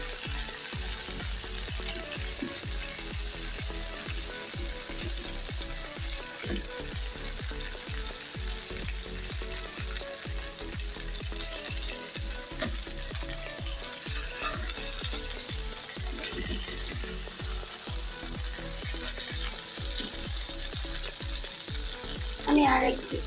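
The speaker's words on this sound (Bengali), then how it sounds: "একটু সময় নিয়ে 20 থেকে 30 মিনিট ধরে চিকেনটা হালকা হাতে ভেজে নিতে হবে" Chicken tandoori pieces fry in a pan on a gas stove, giving a steady close sizzle throughout with a busy crackle of small pops and occasional utensil movement, no talking.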